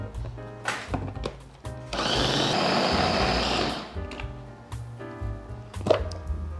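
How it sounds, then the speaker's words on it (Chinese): A food processor purees tofu skin into a paste: a dense motor whir and churning surges for about two seconds, with scattered clatters and knocks before and after. "现在把豆包放进调理机里面，要打成泥状"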